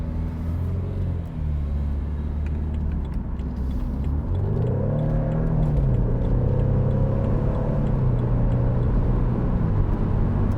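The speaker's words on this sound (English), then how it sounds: "The sound of that engine is just phenomenal." A 2014 BMW Z4 sDrive28i M Sport with its 2.0-litre engine runs steadily with a deep, continuous rumble that rises in pitch as it revs, close and loud throughout with no talking.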